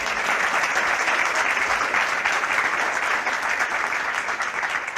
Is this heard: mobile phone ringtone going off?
no